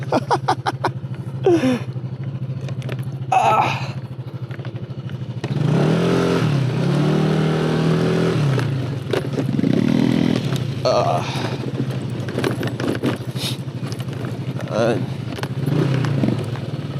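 A motorcycle engine braking on a mountain road near Sagada, a low uneven engine drone that swells and falls, heard under ongoing talk between riders.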